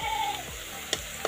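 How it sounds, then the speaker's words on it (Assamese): Raisins and nuts fry in hot oil, giving a soft, continuous sizzle with a couple of sharp clinks or taps near the end. No speech is heard. "এতিয়া মই ইয়াত কিচমিচ দি ল'ম আৰু লগতে বাদামো দি মই তেলত ভাজি ল'ম"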